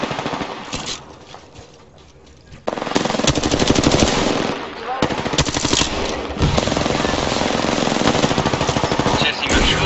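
Rapid automatic fire from the Alternator submachine gun in Apex Legends, sustained bursts of loud, close gunfire with short pauses between volleys.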